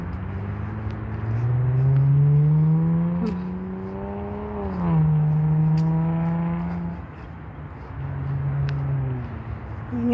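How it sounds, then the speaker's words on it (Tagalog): A car engine passes along a street, its harmonic pitch rising and falling as it goes by, with a second vehicle following; loud and close, no talk. "Ngayon ang sasakyan ang maririnig nyo guys"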